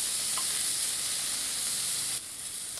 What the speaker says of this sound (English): Using my tongs, I'm going to put the scallops into the pan now, and as they hit it, you should really hear them sizzle